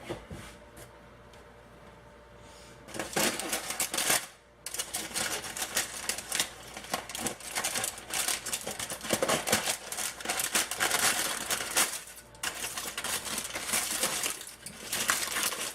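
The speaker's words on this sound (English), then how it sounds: "I am now going to take and open this foil." Aluminum foil wrapped around a cooked brisket is peeled open, giving loud, continuous crinkling and crackling with bursts of rustling and brief pauses, close up and with no talk.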